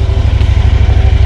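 A Lanchin 30 hp air-cooled engine on a tracked all-terrain vehicle runs at a steady idle in cold weather, a loud, even, rapid throbbing chug close up with no talk.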